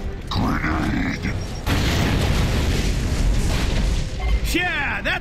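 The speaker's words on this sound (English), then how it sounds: "Grenade." A grenade goes off in a Gears of War 3 firefight, a heavy booming blast that roars on for seconds amid gunfire and mechanical clatter, loud and close, with a short voice call beforehand.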